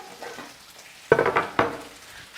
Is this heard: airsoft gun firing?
no